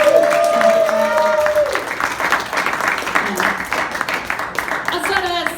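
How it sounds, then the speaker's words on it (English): An audience at a comedy show applauding, loud clapping at the start that thins out while the comedian keeps talking over it. "Give her a round of applause."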